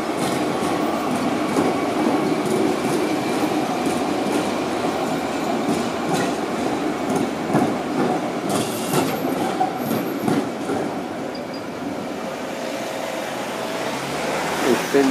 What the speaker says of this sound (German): Jetzt kommt wieder eine ältere Straßenbahn.